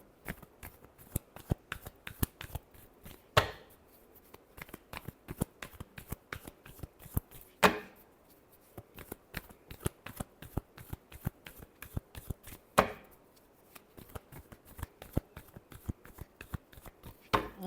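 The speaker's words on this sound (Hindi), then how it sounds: "Last shuffle." Tarot cards riffled and shuffled in rapid crisp bursts, a dense train of sharp papery flicks with a few louder snaps, close and alone with no talk.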